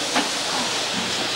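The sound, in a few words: hissing steam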